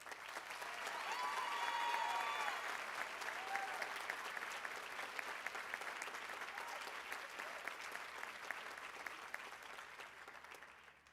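A baccalaureate ceremony audience applauds in a sustained wash of clapping that swells in the first seconds and then holds steady. It sounds moderately distant and fills the hall.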